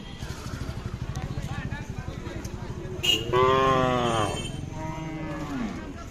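A cow lows loudly and close at a crowded cattle market, one long drawn-out moo rising over a background of chatter and a passing motorcycle engine.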